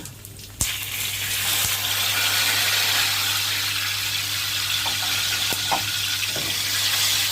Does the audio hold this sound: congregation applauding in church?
no